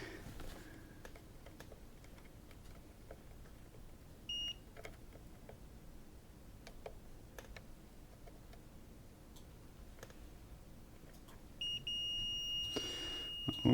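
A multimeter continuity beeper tests transistors on a hoverboard board during a repair: faint clicks and taps of the probes, a brief beep, then a longer steady beep near the end.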